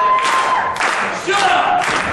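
Wrestling crowd in a Bay City arena cheering, whooping and clapping steadily, a loud, dense roar of many voices that swells and dips throughout.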